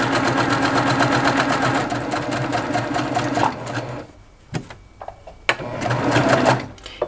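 A sewing machine piecing quilt blocks runs in a fast, steady mechanical whir for several seconds, then stops, followed by a few clicks and brief bursts as the presser foot and fabric are adjusted before it starts again.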